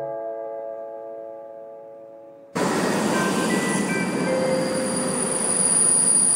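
A train pulls into the platform at Mohelnice station in the Czech Republic, a loud steady rumble of rolling wagons with high metallic wheel squeal, following a chime-like announcement tone that cuts off abruptly.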